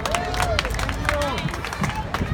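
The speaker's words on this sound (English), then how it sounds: "A big round of applause." A festival crowd at the Pakistan Festival in Vancouver claps and cheers steadily, with scattered shouts and whistle-like calls over a dense, lively hubbub of voices.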